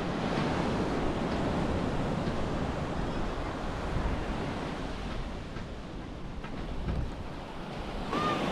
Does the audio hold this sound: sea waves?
yes